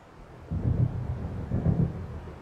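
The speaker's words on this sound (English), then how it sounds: "It seems there's a storm coming" Low thunder from an approaching storm rumbles in two rolling swells in the game Alan Wake, distant and muffled, with no speech.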